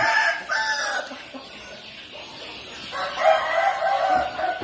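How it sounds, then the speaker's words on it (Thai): Roosters crow loudly nearby, with hens clucking in between, no voices. "ไก่เดินเล่นนะครับ เล่นทรายนะครับ"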